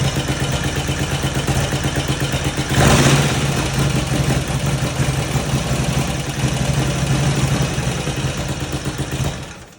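A vintage motorcycle in a museum runs after starting, its engine a loud, steady close idle with one brief rise in revs, then fading slightly toward the end; no voices.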